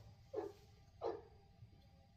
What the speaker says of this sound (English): the dog hears the turkeys.